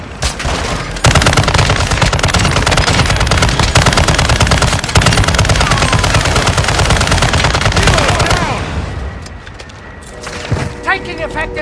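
Sustained machine gun fire in Call of Duty Warzone DMZ, loud continuous rapid bursts for several seconds before fading out, with voices talking over the shooting.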